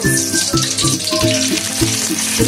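Ghee and soybean oil sizzle in a pot on a stovetop for Puran Dhaka beef biryani, a steady loud crackling hiss with a low tonal hum running underneath.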